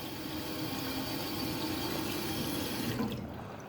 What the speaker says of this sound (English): let's turn the eye wash on